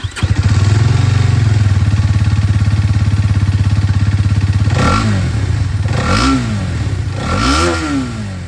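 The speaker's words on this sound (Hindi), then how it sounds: "अब मैं आप लोगों को यहाँ पर जो एक्सट्रीम 250 आर है इसकी जो आवाज़ है ये भी सुना" Hero Xtreme 250R motorcycle with its stock exhaust idling steadily and loudly up close, then revved three times in rising and falling bursts.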